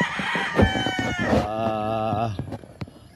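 A rooster crows loudly and close by on a poultry breeding farm, a long harmonic call with clucking chickens around it.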